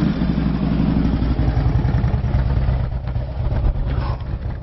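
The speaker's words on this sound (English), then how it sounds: "Let's give this awesome bike with this beautiful blue and black paint job a quick listen." A 2007 Harley-Davidson Road King Classic FLHRC V-twin idles close by with a deep, loping, uneven thump, steady throughout with a slight dip near the end.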